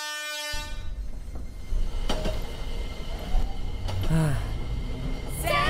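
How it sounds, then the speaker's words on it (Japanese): A train pulls away after a short horn-like tone, followed by a rolling rumble with squeals and clanks from the cars, moderately close, with faint voices in the background. "やばい、もう電車出る時間だ"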